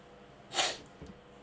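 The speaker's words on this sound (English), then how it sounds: "I'm gonna sneeze" A single sharp sneeze during a quiet indoor stream, a brief breathy burst rising and fading within half a second, followed by a small snort, close to the microphone with no talking.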